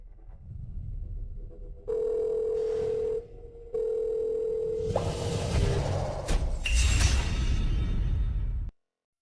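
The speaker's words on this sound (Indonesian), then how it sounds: "Segera telepon Jiang Yan, tanyakan dia sudah sampai mana. Baik, saya akan segera menelepon Yan Yan." A telephone call being placed: two long, steady ringback tones with a short gap between them, then whooshing and a crash-like burst before the sound abruptly cuts off.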